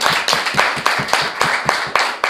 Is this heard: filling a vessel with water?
no